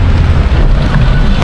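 Heavy rain falls in a steady, loud, dense roar that stays constant throughout, with no break or other sound standing out.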